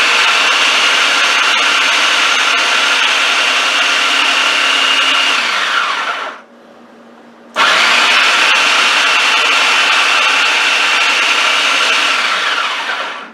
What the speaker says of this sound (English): let me forewarn you that the food processor is loud